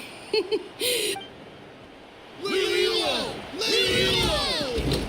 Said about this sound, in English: Hear that? The exhilarating cheers of the crowd.